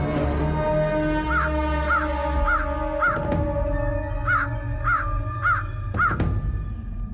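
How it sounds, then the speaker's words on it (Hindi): A crow caws loudly and repeatedly nearby, eight harsh calls in two groups of four, spaced evenly over a steady background hum. "ये कौवा चिल्ला क्यों रहा है?"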